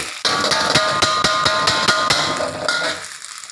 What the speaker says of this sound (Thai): ใส่เส้นลงไปเลยครับไม่ต้องใส่ซีอิ๊วนะครับ คั่วให้กลิ่นไหม้กระทะได้เลยนะครับ